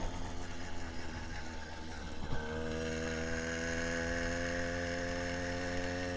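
A two-stroke engine bicycle kit runs steadily, a buzzy harmonic drone that settles into a higher, even idle-like tone after a brief shift, continuous and close without voices.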